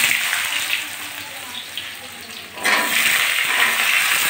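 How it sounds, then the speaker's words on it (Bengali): Cut, washed potatoes are tipped into hot oil with bay leaves, and a quick steady sizzle swells into a louder, fuller frying hiss. "এখন আমি কেটে ধুয়ে রাখা আলুগুলো দিয়ে দিচ্ছি।"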